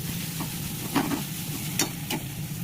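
Green chillies and spice mix sizzle steadily in a pan for tarka dal, with a few soft scrapes and clicks of stirring over the constant frying hiss.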